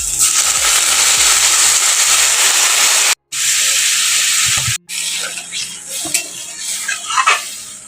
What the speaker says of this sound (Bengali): এখন আমি এখানে দিয়ে দেবো পরিমাণ মতো জল।